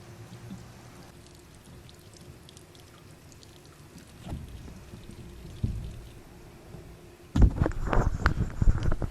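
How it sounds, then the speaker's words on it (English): Simulated rain from an erosion lab rainfall setup falls steadily onto a soil profile, producing a continuous patter and trickle that swells into louder splashing and pouring near the end. "we've now rained 20 liters onto the soil"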